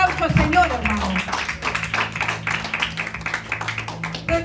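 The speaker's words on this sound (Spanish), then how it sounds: "Démosle un fuerte aplauso al Señor" A church congregation claps in quick, uneven rhythm while a voice speaks over it and a low musical hum sustains underneath.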